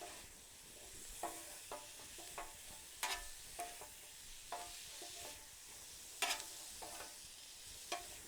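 Garlic and sweet peppers sizzle on a hot griddle with a steady soft hiss, punctuated by scraping stirs and clicks from a spatula at irregular intervals, close and fairly quiet.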